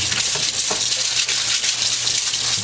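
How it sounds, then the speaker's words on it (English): Tap water running into a kitchen sink while a white brush scrubs a spatula clean, a steady broadband rush of flowing water with faint scrubbing and clatter mixed in, close and continuous throughout. "bring them over to the sink, turn on the water, grab this white brush"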